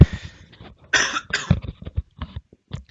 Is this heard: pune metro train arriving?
no